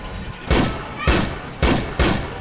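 Gunshots in the Hindi film Sholay: four loud, booming blasts fired at an uneven pace, each trailing off into a reverberant tail.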